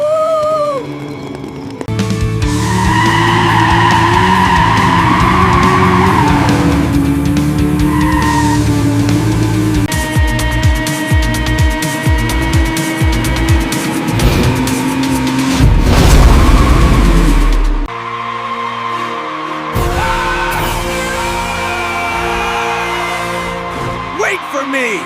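Cartoon race cars skid and rev in a loud, continuous rush of engine whine, tire squeals and swooshes, with excited character voices shouting over the action.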